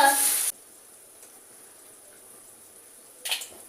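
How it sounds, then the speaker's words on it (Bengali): Nol papad frying fast in very hot mustard oil: a loud crackling sizzle for about half a second, then near-quiet, then a second short sizzling burst near the end. "এই দেখো পাঁপড় সেই নল পাঁপড়গুলো হয় সেইগুলো ছটপট ভেজে নিই"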